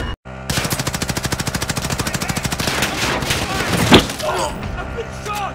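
Video game gunfire with a long, rapid machine-gun burst of evenly spaced shots, loud and close, trailing into scattered impacts and a sharp crack near the end.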